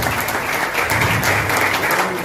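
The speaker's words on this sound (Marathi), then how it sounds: "टाळ्या होईल।" Steady, dense audience applause fills the whole stretch at a ceremony honouring Mumbai police officer Ninad Sawant on becoming ACP, loud and continuous with no pauses.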